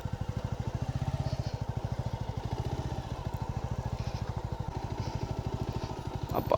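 A motorcycle engine thumps in a fast, even rhythm close by on a solo road ride in Goa, holding steady for several seconds before a brief rev at the end, with no talk.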